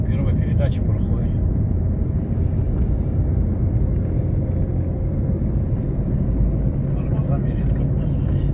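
A car rolls down a long mountain pass with serpentine bends near Baikal in first gear, its low engine rumble and road roar droning steadily and loud throughout, with speech over it.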